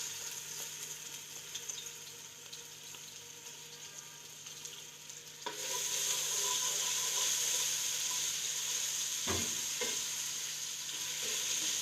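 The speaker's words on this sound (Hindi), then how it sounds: "ऑयल हमारा गर्म हो चुका है, इसके अंदर मैं लहसुन अदरक का पेस्ट डालती हूँ।" Garlic-ginger paste hits hot oil with a sudden loud sizzle that continues steadily, with brief stirring scrapes partway through.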